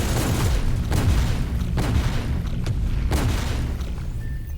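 Grenade blasts in the chaotic match play of Sector's Edge, a competitive shooter, come as repeated loud booms roughly every second and a half over a dense, continuous din of gunfire and game noise.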